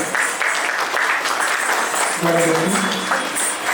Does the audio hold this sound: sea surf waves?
no